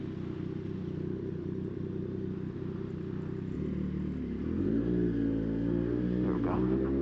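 A motorcycle engine drones steadily while riding, with a low rumbling tone that rises and shifts as the bike accelerates near the end, with brief talk in the background.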